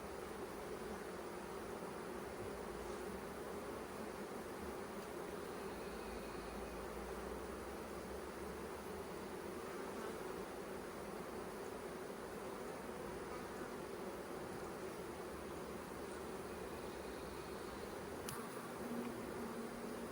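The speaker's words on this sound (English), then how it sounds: "this is a box definitely full of bees" Honey bees humming steadily inside an opened hive box, a dense, even buzz that holds without a break throughout.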